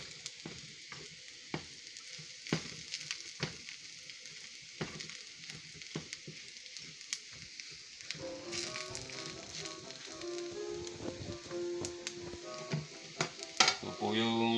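Tofu and hotdog fried rice being stir-fried in a pan, a steady sizzle with scraping and clanking stirring strokes that grow busier and louder toward the end, with no talking.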